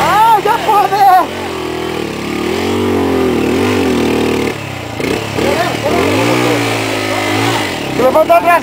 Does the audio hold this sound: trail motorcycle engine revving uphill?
yes